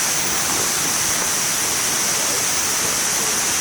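Kuang Si Waterfall near Luang Prabang, Laos roars as a dense, continuous rush of falling water, loud and steady with no breaks or voices.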